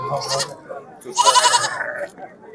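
A goat kid at a busy livestock market gives a wavering, fairly close bleat amid crowd noise and background voices.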